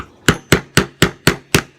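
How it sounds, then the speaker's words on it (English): Six loud, evenly spaced hammer blows driving a metal punch through leather to make a hole, sharp close impacts about a quarter second apart with nothing else heard. "Hammer that thing right through."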